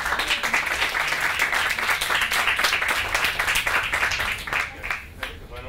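An audience claps for supporters at a speech event, a steady wash of applause that thins and tapers off near the end, with faint voices underneath.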